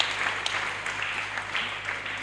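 Church congregation applauding together, a steady dense wash of clapping with a faint low hum underneath and no clear voices.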